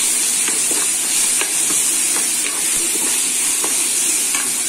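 Garlic and ginger frying in hot oil with dried chillies and spices for an Odia curd chutney, a steady loud sizzle with faint clicks of stirring throughout, no talking.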